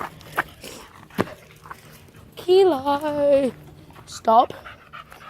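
A dog walking off lead pants in quick breathy bursts near the listener, interspersed with a person calling out and a drawn-out vocal sound.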